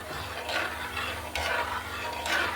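A spoon stirs cooked moong dal with milk in a pot for payasa, giving three soft scraping, sloshing strokes at a steady pace, close up and with no voices.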